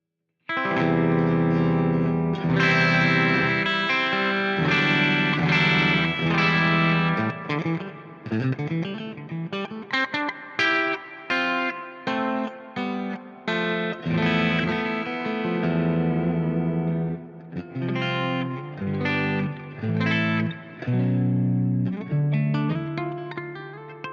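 Electric guitar played through an impulse response of a 4x12 cabinet, with distorted chords and riffs in choppy rhythmic bursts and chorus-like shimmer, loud and continuous without talk.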